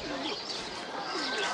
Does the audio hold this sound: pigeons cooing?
yes